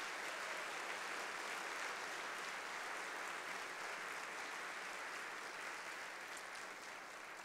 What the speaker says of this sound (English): Let's give him a quick round of applause before he comes out